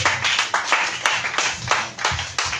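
A worship vigil congregation claps together in a fast, steady rhythm to acclaim the Lord, loud and close, with crisp repeated hand claps throughout.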